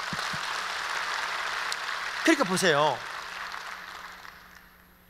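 A church congregation applauds during an anniversary revival service with a steady, even patter that gradually fades out. Someone speaks briefly over it in the middle.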